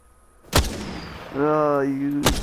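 Enemy gunfire in Apex Legends: two sharp, loud shots about two seconds apart, with a steady humming in-game tone filling the gap between them.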